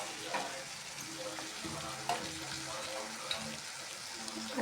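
Moth beans cooking in oil and water in a pan give a steady close sizzle and bubbling hiss, with a few light stirring scrapes and clinks.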